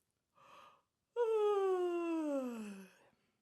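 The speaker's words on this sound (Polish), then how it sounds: "ziewam." A brief intake of breath, then a long voiced yawn gliding from higher to lower pitch before trailing off, heard up close.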